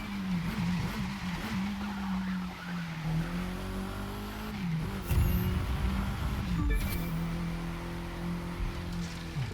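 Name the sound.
KTM X-BOW R street racing in The Crew 2 video game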